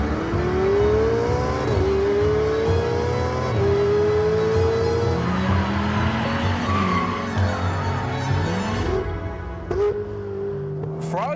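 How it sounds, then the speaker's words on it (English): Ferrari Roma with a reworked exhaust and bypass valves, sweeping through rising and falling engine notes on a run, loud and close, with a whining high-pitched edge and brief gear-change dips. "for the Roma, they've tweaked the exhaust and fiddled around with the bypass valves so it really hits those high notes."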